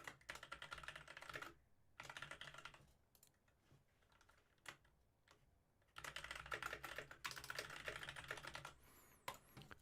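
Steady typing on a computer keyboard during a live session on Jira Cloud search, the dense key clatter running in bursts with brief pauses in between.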